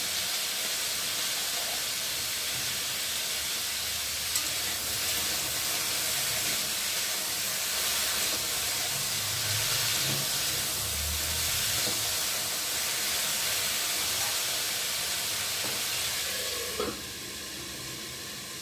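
Continuous loud hiss of potatoes frying in a pan fills the whole stretch, a dense steady sizzle with occasional faint clinks near the end.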